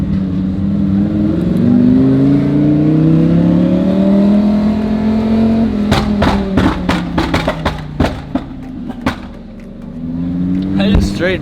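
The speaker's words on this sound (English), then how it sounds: "I just straight banged and popped my car right in front of a cop." A Lamborghini's exhaust roars steadily under acceleration, then breaks into a rapid string of sharp, loud bangs and pops spread over several seconds, with the engine note rising again at the end.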